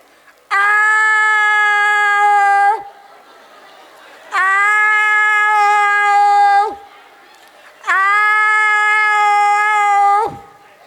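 A voice imitates two cats meowing and fighting, three long drawn-out nasal yowls of about two seconds each, loud and close, with short pauses between them.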